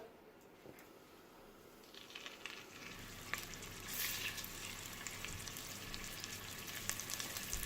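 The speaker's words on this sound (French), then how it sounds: "Alors là, à feu vif, je vais dorer mes côtelettes." Lamb chops brown in hot olive oil over high heat. A faint hiss swells into a fuller, crackling sizzle partway through and holds steady, close by, with no talking.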